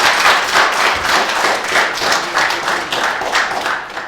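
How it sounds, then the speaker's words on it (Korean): An audience claps together at a symposium on reducing carbon emissions held in a Korean National Assembly meeting room, a full, steady round of applause at close range that carries on evenly throughout. "다시 한번 박수 한번 주시죠"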